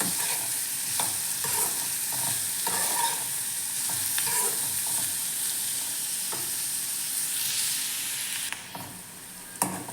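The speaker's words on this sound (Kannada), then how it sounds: "ಫ್ಲೇಮನ್ನು ಸ್ವಲ್ಪ ಜಾಸ್ತಿ ಮಾಡಿಬಿಟ್ಟು ಈರುಳ್ಳಿನ ಚೆನ್ನಾಗಿ ಹುರ್ಕೋಬೇಕು" Onions fry in a hot pan on a high flame, with steady close sizzling and crackling throughout and repeated scraping stirs of a spoon against the pan, while a bitter gourd sweet-spicy gojju is being cooked.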